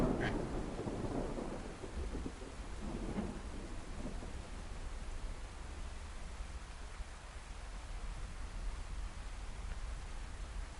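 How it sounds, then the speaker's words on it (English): Steady rain with low rumbling thunder in the survival game DayZ, the storm rolling loudest in the first few seconds and then settling into a constant, even wash of rainfall. "I think I'm gonna sit here and wait for the rain to come off."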